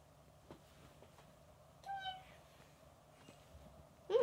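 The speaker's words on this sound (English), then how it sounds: "My cat jumped on me." A house cat gives a single short, faint meow indoors against quiet room noise, followed by a louder brief rustle at the end.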